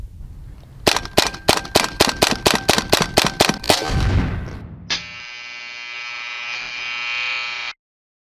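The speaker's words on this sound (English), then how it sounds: "We have 2 shots downrange, 135 yards" A .17 HMaiR mkII airgun fired rapidly downrange, a quick series of about a dozen sharp snapping shots with a rattling echo, followed by one softer pop and a sustained electronic buzz that cuts off abruptly.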